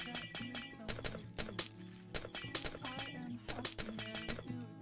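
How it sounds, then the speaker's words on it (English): Glass blocks breaking one after another in Minecraft, a rapid series of bright shattering crashes in an irregular rhythm, close and fairly quiet, with no talking over them. "We'll break all this existing glass because I need to change it."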